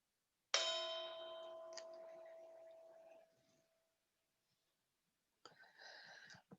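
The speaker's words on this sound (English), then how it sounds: "I'm going to ring the bell." A meditation bell struck once at the close of a session, ringing with a clear metallic tone that decays over about three seconds, followed by silence and then a soft second ring or brush.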